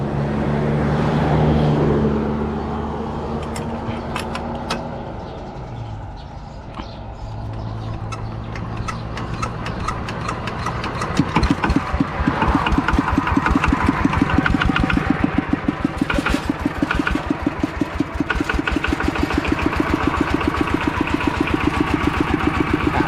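A farm tractor's engine cranks and catches in Kamphaeng Phet, Thailand, then settles into a steady, loud, chugging idle with rapid rhythmic thumps nearby. A faint bird chirps in the background.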